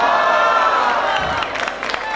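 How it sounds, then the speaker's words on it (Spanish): Festival crowd in a municipal park cheering and applauding for a band on stage, a loud, dense wash of clapping and whoops that thins out toward the end. "más fuerte el aplauso"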